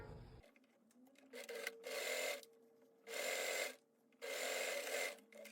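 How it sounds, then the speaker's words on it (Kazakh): Sewing machine stitching a straight skirt seam, running in three sustained bursts separated by short pauses, close and fairly loud with no talking. "Осы жерден, мына жерден бастап, соңына дейін тігіп шығамыз."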